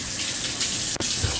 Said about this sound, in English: Rinse it off a little bit.